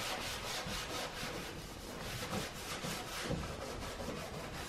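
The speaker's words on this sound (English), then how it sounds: "since I have to get the grease cut first, I'm gonna get these Clorox wipes first" Clorox wipes rubbed over a greasy kitchen surface give a steady, close scrubbing and rubbing texture with rhythmic strokes and no speech.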